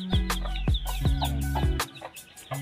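Hens on a small farm with newly hatched chicks give repeated low clucks in a loose rhythm, close by, with thin high peeping mixed in and no talking.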